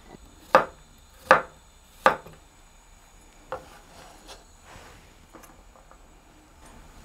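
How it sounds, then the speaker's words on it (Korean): Garlic cloves sliced with a kitchen knife on a cutting board: three sharp, evenly spaced chops close by, followed by a few softer, scattered taps. "마늘은 4개 편으로 잘라주겠습니다"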